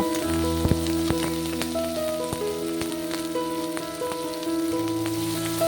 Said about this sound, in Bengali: মশলাটা ভালো করে কিছুক্ষণ ভেজে নেব।